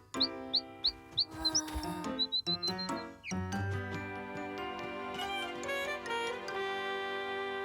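A small cartoon bird gives a run of short, bright chirps, then a tinkling musical score takes over.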